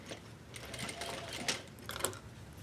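Sewing machine stitching the waistband of a pair of jeans, a quiet steady mechanical whir with soft rhythmic ticking and a few sharper clicks, heard alone without talk.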